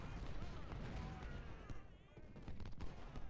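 Artillery fire in the Civil War strategy game Ultimate General at Devil's Den, Gettysburg: repeated booms and crackling volleys rumble continuously, with someone narrating over the battle noise.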